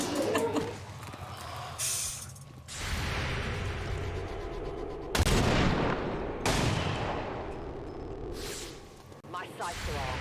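A gunshot fired wide of its target in the XCOM 2 video game, a sharp loud report among several bursts of gunfire and game ambience, with a voice talking over parts.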